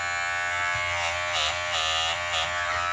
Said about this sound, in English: You get a little bit of shift of noise whenever you change position of the blade